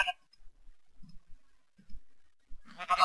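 A sheep in the Minecraft video game bleats in a few short, faint calls spread across a quiet stretch, followed by a brighter burst of sound at the end.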